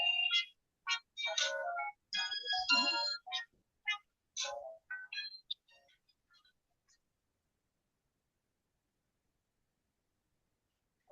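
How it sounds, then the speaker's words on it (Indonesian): A telephone ringtone plays as a repeating electronic melody of bright, chirpy tones for about six seconds, then stops and leaves silence. "Sebentar ya, saya matikan telepon dulu."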